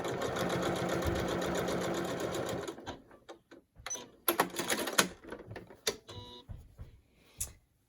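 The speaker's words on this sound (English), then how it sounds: "the reason we're edge stitching is to keep the mask, once it's washed, from shifting around" A sewing machine edge stitches a cloth face mask with a nose wire, running steadily and close for about three seconds before stopping, followed by scattered clicks and fabric handling.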